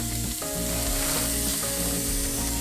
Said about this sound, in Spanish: Sartén de fierro bien caliente y vamos.